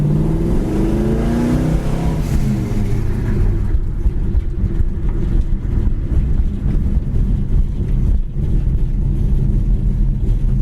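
A fire truck passes by a moving 1975 Plymouth Duster: a loud, heavy engine drone sweeps past in the first few seconds, then gives way to steady road rumble and wind buffeting.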